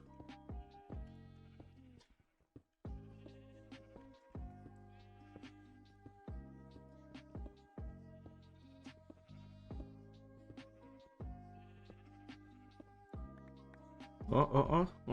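In the Minecraft video game, sheep give repeated short, wavering bleats in a regular rhythm, with a louder, busier burst of sound near the end.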